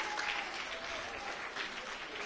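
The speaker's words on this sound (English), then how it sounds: "Ashish, big round of applause for Ashish." Brief, fairly quiet applause from an audience at a Sunday school event, steady clapping filling the whole moment without talk.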